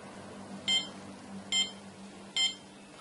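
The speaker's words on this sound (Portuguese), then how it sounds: "o alarme de solo seco será disparado" Three short electronic beeps from an Arduino dry-soil moisture alarm, evenly spaced about a second apart, over a faint low hum.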